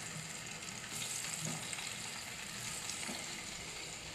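Potatoes fry in a pan in a home kitchen, giving a dense, steady hiss of sizzling oil that holds at an even level with faint stirring underneath, close and without voices.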